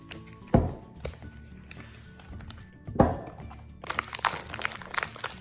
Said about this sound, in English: Let's cut up this cream cheese first.